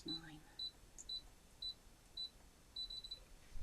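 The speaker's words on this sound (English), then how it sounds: "until it does that little double beep that says I can go no further" A Brother ScanNCut cutting machine sounds a series of short, high electronic beeps at a steady pace, faint, with quiet room noise and a few faint clicks between them.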